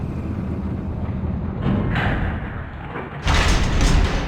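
Elevator doors in the 2002 Resident Evil game slide and thud against a low mechanical rumble, with a louder rushing surge as the car moves.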